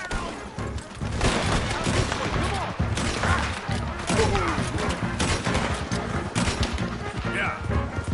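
Gunfire crackles through a chaotic shootout in Red Dead Redemption 2, dense overlapping shots and bursts rattling loudly and continuously for several seconds, with shouted voices mixed into the din.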